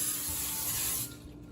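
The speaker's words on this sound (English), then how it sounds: "I'm going to take this pan or sheet, whatever you may call it," Cooking spray hisses onto a pan sheet in a short, steady burst lasting about a second, close by, then cuts off to a quiet room.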